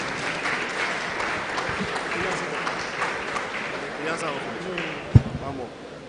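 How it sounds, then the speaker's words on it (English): Audience clapping for the speakers at an entrepreneurship series event, moderately loud and continuous, with voices talking over it and a sharp thump near the end as it dies away. "another round of applause for our speakers"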